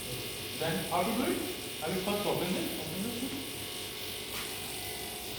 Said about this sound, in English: so we have turned on the rotary pump